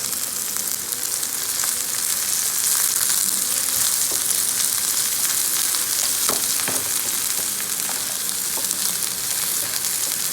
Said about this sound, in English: saute it so that the rawness of the ginger goes away and the flavor comes into the oil